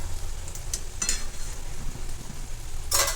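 Sabudana khichdi is stirred in a frying pan, with a soft continuous sizzle under the scraping and a few sharp clinks of the spoon against the pan.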